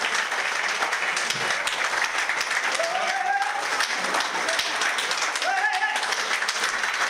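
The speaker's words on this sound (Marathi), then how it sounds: "जोरदार टाळ्यांचा गजर झाला पाहिजे." Crowd applause at a book release ceremony for a poetry collection, Laughing Buddha, as a ribbon is cut. Dense, sustained clapping fills the room, with a few voices calling out over it.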